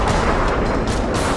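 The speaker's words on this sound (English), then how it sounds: "The F-15 fires a barrage of rounds into the peak." An F-15 fighter jet strafes an enemy bunker dug into a rocky mountain peak with a heavy barrage of rounds, a dense, continuous roar of booming fire, loud and unbroken throughout.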